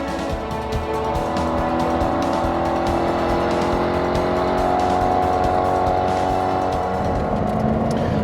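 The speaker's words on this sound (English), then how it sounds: "you get the acceleration and you're throwing the car hard into the turn when the Z06 really comes to life." A Chevrolet Corvette Z06 with a seven-speed gearbox is driven hard into a turn on the Laguna Seca track. Its engine roars loud and close the whole time, with sustained throaty revving and a hint of tire squeal, and no talking.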